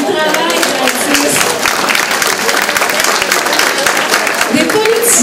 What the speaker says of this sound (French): Ben, une bonne main d'applaudissement.